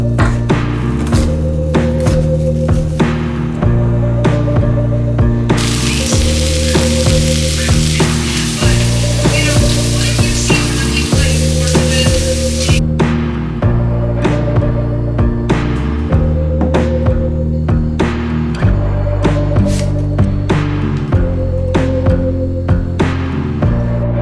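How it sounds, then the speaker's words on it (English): Asparagus, red onion, garlic and vegan Italian sausage sizzle steadily in a pan, with a loud continuous frying hiss and scattered taps and stirs, set against a repeating background music beat. "then I'm going to saute some asparagus"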